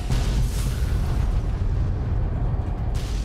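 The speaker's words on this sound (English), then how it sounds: "God damn it, quit exploding." Explosions in the video game Fallout: New Vegas, a loud, continuous roaring boom that fills the whole moment with dense low rumble and no pause.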